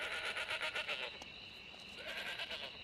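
Herded goats bleating, a run of rapid wavering bleats in the first second and another at the end, moderately near and faint, with no talk.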